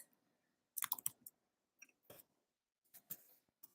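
Typing on a keyboard in a quiet room: three short clusters of light, crisp key clicks with silent gaps between them and no talking.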